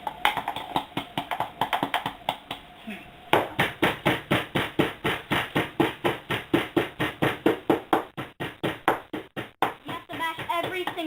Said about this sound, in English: You have to mash every single piece, so that way it becomes like a paste